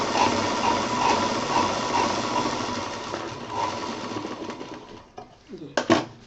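Sewing machine stitching fabric for a handmade thermos case, a close, rapid running whir for about five seconds, then stopping, with a few handling clatters and soft speech afterward.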